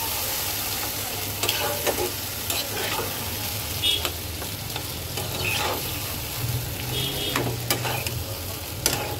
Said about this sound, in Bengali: কচু শাক দিয়ে দেওয়ার পর দিয়ে দেবো কাঁচামরিচ। এবার একটু সুন্দর করে নেড়ে দেবো আগে।